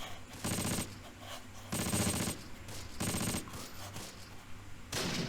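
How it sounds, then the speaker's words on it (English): Bursts of machine gun fire in the Close Combat wartime strategy game, several sustained rattling volleys in steady rhythm with short gaps between them, moderately loud and without talk. "he's definitely opening fire with the machine gun on the enemies there"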